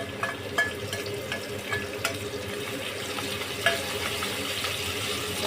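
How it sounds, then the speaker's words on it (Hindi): Chopped green chillies and ginger sizzle in a hot pan, a steady close crackling hiss with a few sharper pops scattered through, no voices. "साथ ही हम इसमें कटी हुई हरी मिर्च और अदरक डाल देंगे।"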